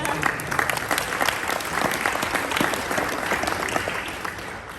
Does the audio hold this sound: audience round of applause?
yes